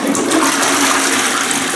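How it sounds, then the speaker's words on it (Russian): Toilet tank flushing with a loud, continuous rush of water throughout, close and steady, with no talking. "перекрываем воду, которая идет к бачку нашего унитаза, и смываем"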